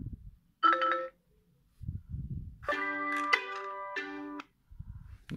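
Short electronic notification chimes from a Motorola Nexus 6: a brief tone, then a longer melodic jingle of bright beeping notes, close and clear with quiet rustling between.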